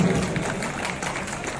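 An audience applauds Paresh ji at a gathering, a short burst of many hands clapping together, steady and moderately loud, starting strong and then continuing evenly.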